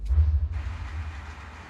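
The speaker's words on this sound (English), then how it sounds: "Here's a simulated train approaching the Kantara Loop." A simulated freight train approaches the curved Kantara Loop track, a loud, steady low rumble with continuous rolling noise and a faint hiss, with no voices.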